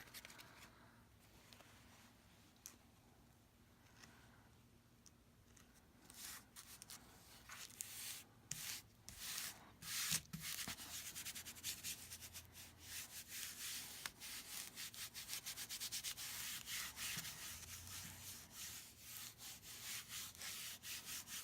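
Hands smooth cotton quilt fabric down onto a Cricut fabric grip cutting mat for a Cricut Maker, making soft, close rubbing and brushing strokes that start faint and grow steadier and louder, with no talking.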